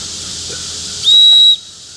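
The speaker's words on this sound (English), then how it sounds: "It's also got an emergency whistle." A shrill emergency whistle built into a handheld fire-starter tool gives one sustained, piercing blast of about half a second, loud and close over a steady background hiss.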